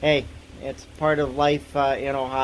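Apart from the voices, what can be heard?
No distinct noise like a dog, phone or traffic.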